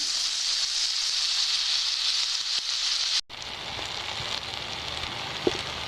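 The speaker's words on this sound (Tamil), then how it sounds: "கொஞ்சம் நல்லா வந்து எண்ணெயிலே வதங்கட்டும்" Onions and tomatoes sauté in oil for a fish curry, a steady close sizzling hiss that briefly cuts out and resumes with occasional soft pops.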